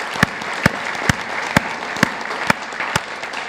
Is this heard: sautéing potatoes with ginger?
no